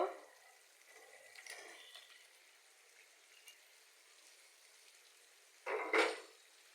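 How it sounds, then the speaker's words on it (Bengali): Pointed gourd pieces drop into a pan for a Bengali rohu fish curry and get stirred, a soft sizzle and scrape early on, then a sharper louder burst of frying and clatter near the end. "আমি পটলগুলো দিয়ে একটু নেড়ে ছেড়ে নিব।"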